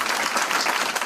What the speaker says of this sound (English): And then he gives himself a nice round of applause.